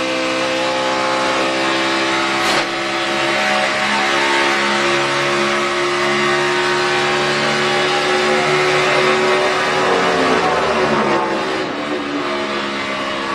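A NASCAR Cup race car engine held at full throttle during the 2013 Quicken Loans 400, a loud, sustained high-pitched roar with a steady tone and a slight pitch shift near the end.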